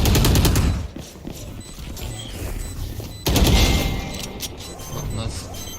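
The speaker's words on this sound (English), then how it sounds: "Shotgun." Shotgun blasts in the game Valorant: loud bursts of fire at the start and again around the three-second mark, with game noise in between.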